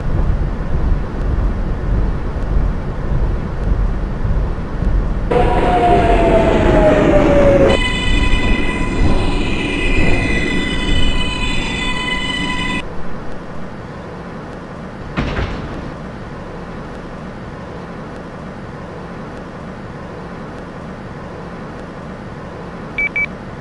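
New York City Q subway train running toward Coney Island: steady loud rumble of wheels on track with a brief high screech, then a stretch of sustained multi-tone electronic whine, fading to quieter rolling noise with a sharp clank near the end.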